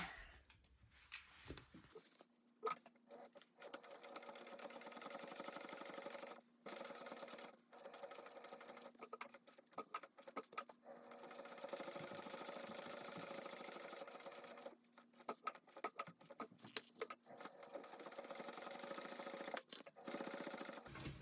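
A sewing machine stitches a panel of a crossbody bag, running in long steady buzzing bursts separated by brief stops, close and loud with no talk.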